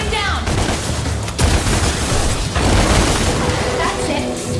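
Gunshots and blasts from the action video game DmC Devil May Cry pile into a dense, continuous barrage of booming fire. It runs loud and unbroken for several seconds, with sharper bursts standing out along the way.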